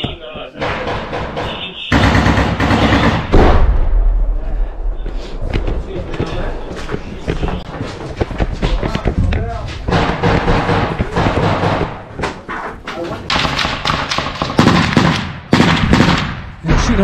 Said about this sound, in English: They're shooting at that fucking building right there.